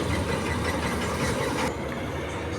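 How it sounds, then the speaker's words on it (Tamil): A tractor engine idles steadily at close range in a paddy field during the rice harvest, a loud low rumble that drops slightly in level partway through, with no talk. "அந்த நெல்லை கொட்டுறதுக்காக டிராக்டர்கிட்ட போகுது"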